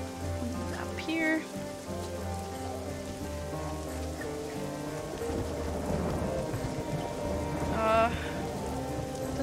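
Steady rain in the video game Submerged, a dense even patter on surfaces throughout, with a few brief chirpy tones rising above it and no talking.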